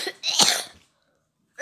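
A single close cough with a short wheezy burst, followed by silence and the start of another sound at the very end.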